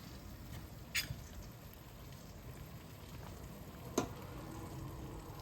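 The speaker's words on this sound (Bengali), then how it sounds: "টকবক টকবক করিয়া দেয় একবারে সিদ্ধ হইয়া" Ridge gourd pieces simmering in a pot of boiling water, giving a steady low bubbling wash with a couple of sharper clicks near the start and toward the end, no voices.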